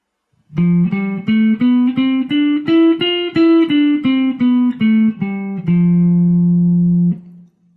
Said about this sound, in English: that gives us the Lydian mode, or fourth mode, which sounds like this